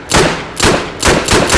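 Three loud, sharp shots from a Rhino revolver in the H3VR virtual reality shooting game, evenly spaced about half a second apart and close up.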